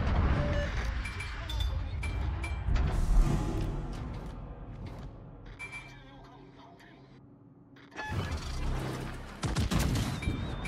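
Heavy naval cannon fire from the video game World of Warships booms in repeated rolling blasts with crackling game-style explosions, loud and dense, then a brief lull before more firing.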